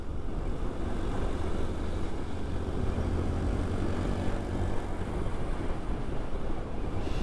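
A motorcycle rides along a road in fifth gear, a continuous close rumble of engine and wind noise that stays loud and even, with no clear gear shift standing out.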